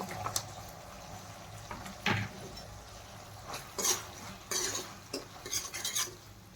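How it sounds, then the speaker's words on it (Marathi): A spoon scrapes and clatters against a pan in several short bursts, stirring carrots into veg manchurian over a faint background sizzle. "व्यवस्थित मिक्स करून घेणार आहोत आपण हे"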